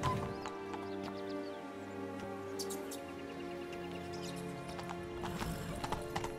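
A horse's hooves clop in a quick, steady rhythm in The Witcher 3, with a brief whinny, faint birdsong and soft ambient music behind it.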